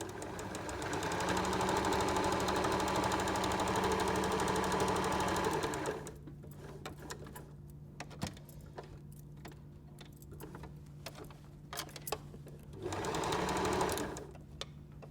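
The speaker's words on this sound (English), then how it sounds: "I am going to zigzag the two layers together to keep them from fraying and also to keep them together" Sewing machine running a roughly 3 mm wide zigzag stitch through two fabric layers to keep them from fraying, a loud steady whir for about six seconds, then quiet clicks and handling before a second short burst near the end.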